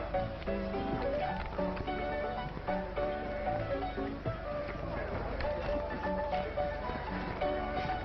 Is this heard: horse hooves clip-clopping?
yes